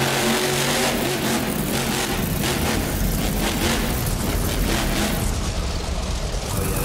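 The red Max D monster truck revs its engine at a qualifying session of the Monster Truck World Finals in Anaheim, a loud, continuous roar over crowd noise in a stadium.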